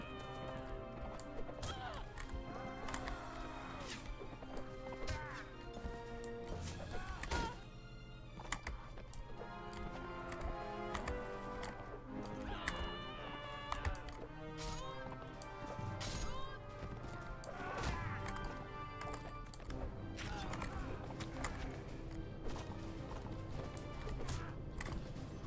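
Horse hooves clip-clopping in Mount and Blade Warband, a steady rhythmic galloping that runs throughout, mixed with game clashes, crashes and keyboard clicks.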